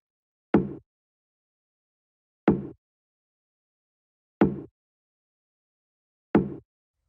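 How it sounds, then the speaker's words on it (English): Four small, soft percussion hits from a house track groove, evenly spaced about two seconds apart, each a short dull knock that decays fast into silence. "Then the last layer we've got here in the percussion is this last little percussion"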